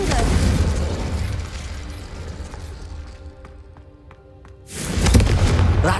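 Confringo blasting spell in the Hogwarts Legacy video game, a loud booming explosion that fades to a ringing tail before another heavy blast bursts in near the end.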